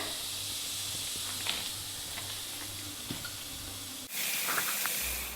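Homemade murukku frying in hot oil, giving a steady, hissing sizzle throughout with faint crackles and pops, and a brief shift in the texture near the end.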